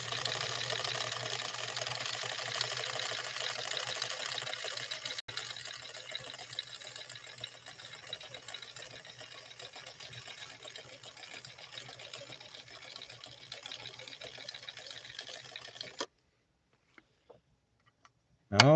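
Sewing machine stitching a small scallop or eyebrow stitch in delicate 100% rayon Sulky thread, running as a steady, even whir for about sixteen seconds before stopping.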